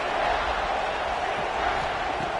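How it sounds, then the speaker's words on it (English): Stadium crowd roaring on third down at a playoff football game, a steady, dense wall of cheering noise throughout, loud and continuous with no breaks. "3rd down and the crowd really getting into it."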